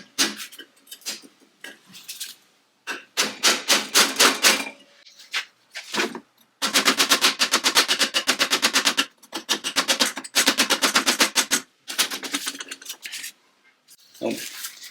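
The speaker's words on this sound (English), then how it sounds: "It's the old stab it with a screwdriver test." A screwdriver jabs repeatedly into the rusty wheel arch of a 1969 Triumph GT6 Mk2, giving bursts of sharp metallic scraping and rapid rattling clicks, some runs fast and sustained, separated by short pauses.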